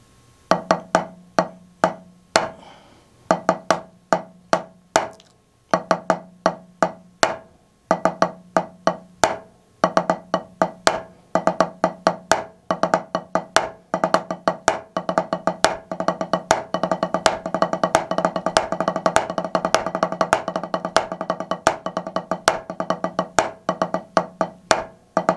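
Snare drum strokes played as single ratamacue rudiments, open, closed, open, sharp crisp hits in repeated clusters that grow denser and louder toward the end, with no voices.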